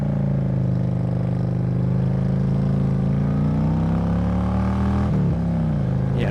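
A Honda Shadow 750 motorcycle engine drones steadily and loudly while riding, holding a deep, even tone with a brief dip and wobble in pitch near the end.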